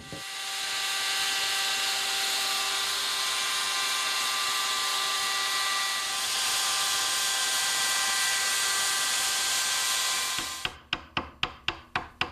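A router fitted with a V-bit cuts a bead along a wooden frame for a standing glass display cabinet, a loud, steady whining roar for about ten seconds that then winds down into a series of sharp, evenly spaced clicks.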